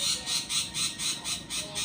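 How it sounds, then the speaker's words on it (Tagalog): A bird squawks in a rapid, regular run of about eight harsh, shrill calls, close and loud, with no talk. "Ang ibon."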